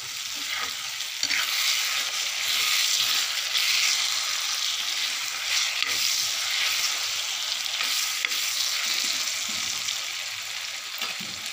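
Mushroom and tomato sabzi sizzles in a kadhai over a low flame, a steady high hiss with faint crackles and occasional stirring scrapes running unbroken from start to finish, with no voices.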